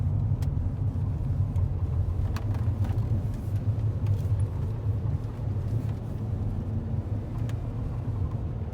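A two-owner truck on new tires driving along, a steady low engine and road rumble with occasional brief ticks and knocks, no voices over it.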